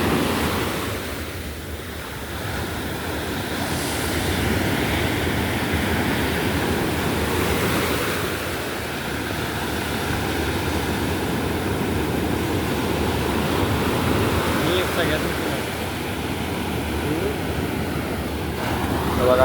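Ocean waves rolling onto a beach in Goa, a loud continuous wash of surf that swells and recedes, with wind buffeting the microphone.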